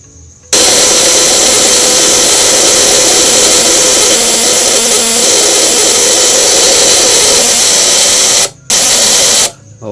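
Homemade multifunction machine running with no load, a very loud, constant high-pitched motor whine that starts abruptly, holds steady, and then cuts out briefly before starting again.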